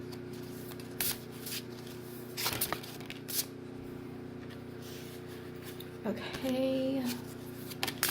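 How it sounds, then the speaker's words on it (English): Tarot cards are shuffled by hand in soft, brisk bursts, the riffles and slides coming in short bunches between quiet pauses, close and fairly faint, with a brief spoken word. "I'm going to be shuffling yet again to make sure that the energies are clear."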